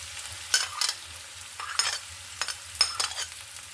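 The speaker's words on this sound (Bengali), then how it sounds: "এখন আমি এটা ভালো করে ভেজে নেব" Onions and green chilies fry in a pan, a soft sizzle under several distinct bursts of spatula stirring and scraping at a close, moderate level.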